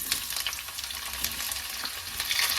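Onions frying in hot oil for an egg curry, a steady bright sizzle with crackling spatter running continuously throughout, close and fairly loud with no voices.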